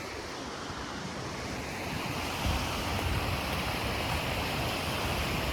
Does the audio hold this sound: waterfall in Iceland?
yes